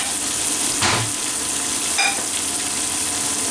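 Veal scaloppine frying in a pan, a steady broadband sizzle throughout with two brief louder bursts of spattering, no voices.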